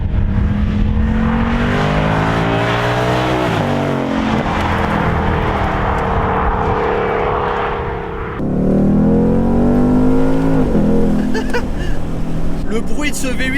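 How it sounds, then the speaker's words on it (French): Ford Mustang V8 convertible cruising through snow, a loud deep engine drone with gear-change dips and rising revs, heard from close inside the car, steady and continuous. "Le bruit de ce V8 il est incroyable"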